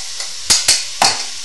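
Raw meat sizzling in a hot pan while a utensil stirs it, with three sharp clattering scrapes over a constant frying hiss.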